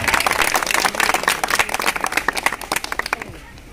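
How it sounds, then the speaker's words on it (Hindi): Dense, lively clapping from a crowd at a public gathering, welcoming Heena Shahab, loud at first and thinning out toward the end. "तालियों से स्वागत किया जाए"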